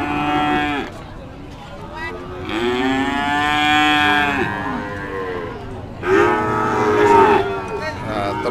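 Cattle at a livestock market mooing loudly and close by, three long drawn-out calls with pauses between them and faint background market noise.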